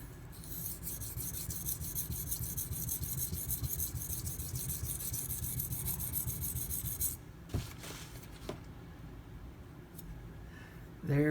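Steel knife blade being sharpened on a very hard, dense Nano Hone whetstone, making a steady close rasping scrape of repeated strokes for about seven seconds, then stopping, followed by a few brief clicks and taps.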